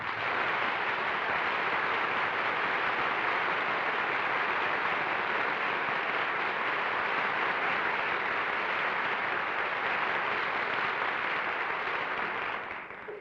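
Studio audience of a live television panel show applauding steadily, a dense, even wash of clapping that holds at full strength for about thirteen seconds and tapers slightly at the very end.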